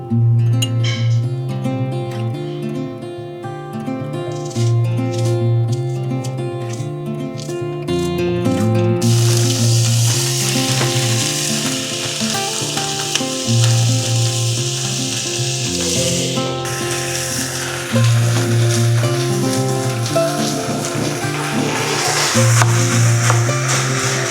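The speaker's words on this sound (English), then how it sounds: "now I'm gonna fry up some ground beef with onions" Ground beef and onions fry in a pan on a home kitchen stove, giving a steady loud sizzle throughout with surges as the food is stirred and moved, and soft background music underneath.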